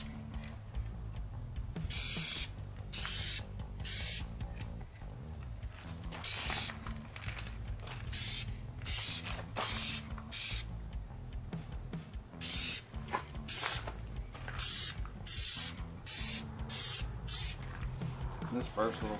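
A spray gun lays a first light coat of paint onto a Cadillac Escalade grille, coming as short bright hissing bursts repeated at irregular intervals over loud background music and a speaking voice.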